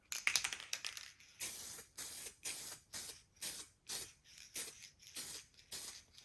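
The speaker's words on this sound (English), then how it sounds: "These cans are really good. They got a nice spray pattern." Short bursts of spray paint from an aerosol can hiss repeatedly in a steady rhythm, each a second or so long with brief pauses between, close and clear, while painting an RC car build.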